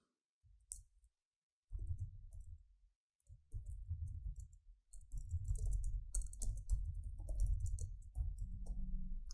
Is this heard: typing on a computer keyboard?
yes